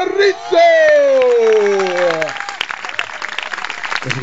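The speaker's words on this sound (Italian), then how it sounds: "L'applauso al nostro Alessandro Rizzo." A loud, drawn-out voice calls out over a crowd, then a burst of clapping and applause follows and keeps going.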